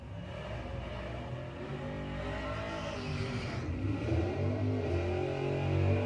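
Drag race cars, including a 1978 Dodge Aspen with a Gen 3 Hemi, accelerate down the strip, the engines rising to a loud, sustained roar.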